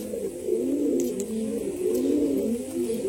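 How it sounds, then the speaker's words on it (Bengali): A domestic pigeon coos up close in a low, rolling, repeated throaty call that carries steadily through the whole short moment. "আপনাদের সামনে একটা পালক টানা পায়রা আপনাদেরকে দেখাচ্ছি।"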